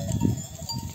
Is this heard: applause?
no